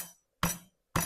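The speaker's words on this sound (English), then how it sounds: "let us grind this garlic and add it" Garlic being ground for mushroom and eggplant khari, heard as two sharp, close pounding or grinding strikes separated by brief silence, each with a bright clinking attack that decays quickly.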